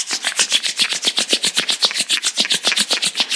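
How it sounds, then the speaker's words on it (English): Palms rubbed briskly together in a steady back-and-forth rhythm, close and fairly loud, each stroke a dry swishing rasp, with no talking. "let's generate some energy between our hands by rubbing our palms against each other"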